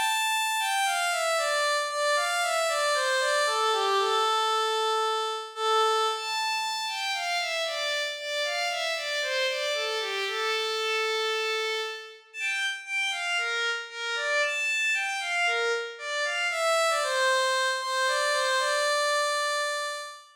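Synthesized melodica tone built in FL Studio, playing a melody: a reedy, sustained lead line with flowing stepwise phrases and a brief pause midway, alone and without any voices.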